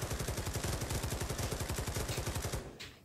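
Rapid machine-gun fire in a VR shooter on Meta Quest 2, a dense, loud stream of evenly spaced shots for nearly three seconds before cutting off abruptly.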